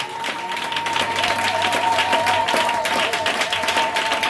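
A church congregation breaks into sustained applause during a French-language worship service, steady dense clapping filling the room at an even level throughout, with a faint sustained tone running beneath.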